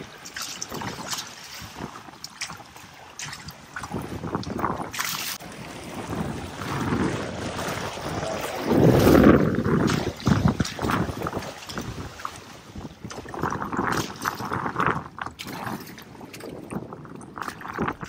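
A sailboat glides over the sea at a resort in Montego Bay, Jamaica, with continuous gusty wind buffeting and water splashing and swishing against the hull, moderately loud and uneven throughout.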